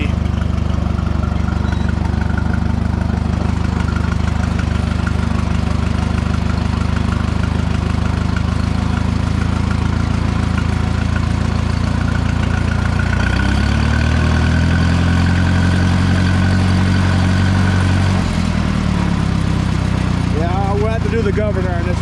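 A heavy Farmall M602 tractor engine idles loudly and steadily for the whole stretch, its low rumble shifting slightly in pitch partway through.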